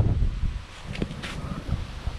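Strong wind outdoors buffets the microphone with low rumbling gusts, close and uneven, alongside faint rustling of nearby trees.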